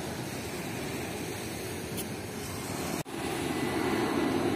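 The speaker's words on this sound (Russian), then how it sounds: "Самолеты кругом." Airplanes fly overhead near a waterside area, producing a steady, broad roar of jet engine noise that holds loud and continuous throughout, with a brief dropout partway through.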